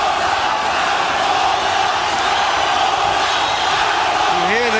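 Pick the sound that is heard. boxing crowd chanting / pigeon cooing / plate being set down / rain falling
boxing crowd chanting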